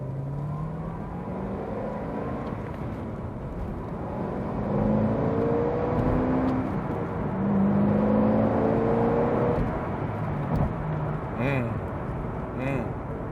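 A 2009 Corvette ZR1 accelerates from inside the cabin, its engine rising through several rumbling pulls and gear changes beneath a steady road roar, heard close with no other sounds on top.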